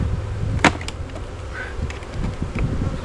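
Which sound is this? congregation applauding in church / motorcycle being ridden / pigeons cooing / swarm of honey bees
swarm of honey bees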